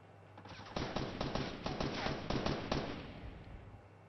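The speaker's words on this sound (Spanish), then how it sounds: "escucho los disparos muy cerca" A rapid burst of Fortnite Battle Royale gunfire crackles in quick succession, steady and fairly close, then cuts off and leaves quiet noise.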